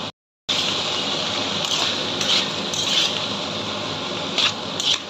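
Fried meat, prawns and egg going into a pan of rice for chilli chicken fried rice, heard as a steady close sizzle with a few scraping stirs after a brief silent gap.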